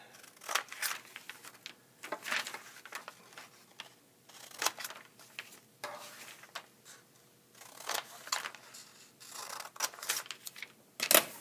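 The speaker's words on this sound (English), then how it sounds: "So we need to cut each of these lines up to the fold that we just made." Scissors cut lines into a folded paper moon phases foldable, producing repeated crisp snips and rustles in uneven bursts, close and moderately quiet, with no talking.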